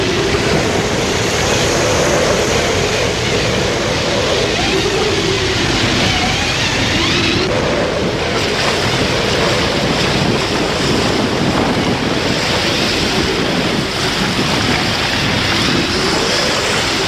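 Loud Atlantic Ocean waves 10 to 15 metres high surge and crash continuously, mixed with heavy wind buffeting the microphone; no one speaks.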